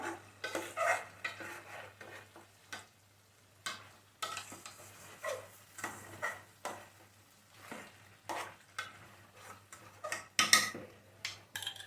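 Chicken masala is stirred and sautéed in a pot for a whole roast chicken, giving a quiet sizzle under repeated scraping strokes of a spoon against the metal, close and uneven, with no voices.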